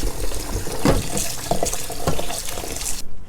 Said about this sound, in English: Add cold water and wash it.